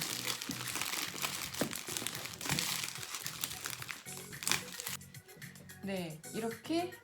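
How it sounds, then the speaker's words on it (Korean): Plastic wrap crinkling as excess sheeting around floral foam is trimmed, a busy rustle with sharp crackles that runs through the clip beneath background music, giving way to quieter handling near the end. "그리고 이렇게 튀어나온 비닐은 잘라주세요."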